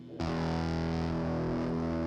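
A synth sound run through the Thermionic Vulture distortion plugin: a sustained, buzzy and heavily saturated tone that starts abruptly and holds steady and loud with thick, gritty harmonics.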